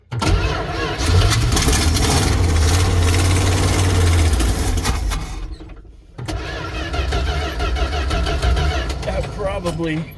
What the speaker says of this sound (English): The classic Chrysler starter.